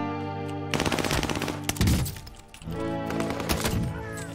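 Loud rapid bursts of gunfire with bullets being shot, layered over a driving music track, the firing breaking off briefly near the middle before resuming.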